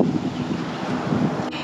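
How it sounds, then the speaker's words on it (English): Strong gusting wind buffets an outdoor campsite on Maui, Hawaii, roaring as steady broadband rush with low rumbling microphone buffeting throughout, loud and close, with no talking. "It's super windy"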